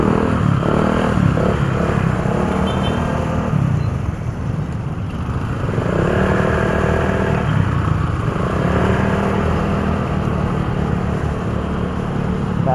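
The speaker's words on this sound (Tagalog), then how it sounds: "Kaliwat kanan ng dami ng motor." Busy evening road traffic crowded with many motorcycles, engines droning and revving steadily on all sides, close and continuous with no talk.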